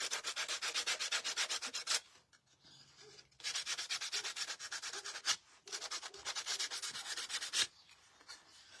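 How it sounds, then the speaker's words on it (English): The edges of a wooden ladybug door hanger are sanded by hand, a close, steady, raspy back-and-forth scrubbing in three long runs split by short pauses, with no voices. "I'm only going to sand the edges on this."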